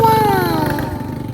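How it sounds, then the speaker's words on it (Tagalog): A motorcycle engine runs steadily up close with a droning tone that drifts slightly lower in pitch, heard alone for the whole moment. "Motor yan siya."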